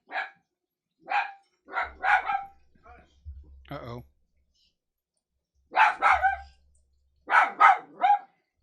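Maddie, a dachshund, barks in short sharp bursts scattered across the stretch, loud and close indoors, with a voice briefly speaking in between.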